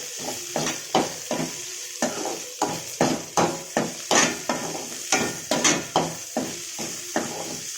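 Onions and dried fish sautéing in a pan, with a loud, rhythmic series of spatula scrapes and knocks against the metal over a constant sizzle, close by with no voices.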